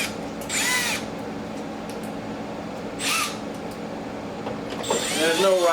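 A power tool whirs in three short bursts, driving Torx screws into a carbon flash front splitter on a C8 Corvette Z06 or E-Ray, with quieter workshop background between the runs.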